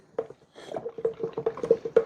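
Thick, wet squelching and tapping as sourdough starter is stirred briskly in a container, a quick irregular rhythm of gloopy smacks close by.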